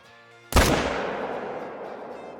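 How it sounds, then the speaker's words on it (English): A rifle shot fired at a mule deer buck in the hunting game Call of the Wild: one loud, sharp report that booms and then trails off in a long echoing decay. "Shot looked perfect to me."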